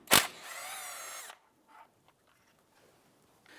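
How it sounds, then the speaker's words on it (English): A power tool with a 10mm socket spins loose the caliper slide pin bolts on a 1997-2006 Jeep Wrangler, giving a sharp hit and then a steady whirring run of about a second, followed by faint handling sounds. "Using a 10mm socket, loosen and remove the slide pin bolts."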